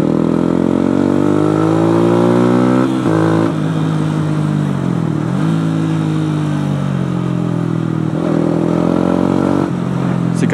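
A Yamaha YZF 125 four-stroke motorcycle is ridden close up with its engine droning loudly throughout. The pitch climbs and drops repeatedly as the rider revs through the gears.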